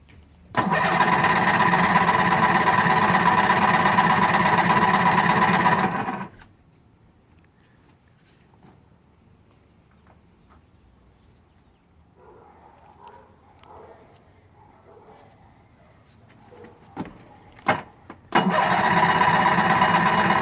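A small engine is primed and started. It roars loudly and close for several seconds, then stops. Quiet cranking and clicks follow before it fires up loudly again at the end.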